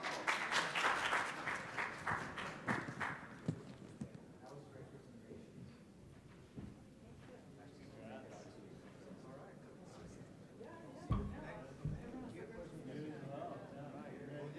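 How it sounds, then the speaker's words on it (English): Conference attendees at an annual open-data event in Chicago clap loudly for a winning team for about three seconds, then the applause thins out and a room of quieter movement and faint talk follows. "Let's give a big round of applause."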